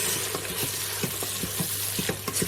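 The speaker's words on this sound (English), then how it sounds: "And I've sliced my 2 onions, and I'm gonna add them in as well. Add my salt in and give it a mix." Sliced onions and salt are stirred into a sizzling pot for lamb curry in a pressure cooker, giving a close, continuous fry with rhythmic scraping strokes of a spoon.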